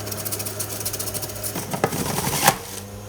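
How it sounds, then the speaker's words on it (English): A juicer machine working through beets gives a fast, rhythmic mechanical whir and rattle, steady and close, with a few louder knocks near the end and no talk. "You see, there is such a thing as juice machines."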